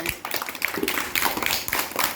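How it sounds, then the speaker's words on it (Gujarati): Small children in a first-grade classroom clap their hands in short, uneven bursts, a quick scatter of sharp claps close by, with a little speech mixed in. "સરસ સરસ તાળી પાડવાની અવાજ આવવો જોઈએ"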